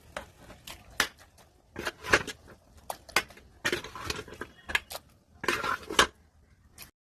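Chicken pieces and sautéed onions are stirred in a pot for biryani. Intermittent, fairly quiet clinks and scrapes of a spoon against the pot come in irregular bursts, with no talking.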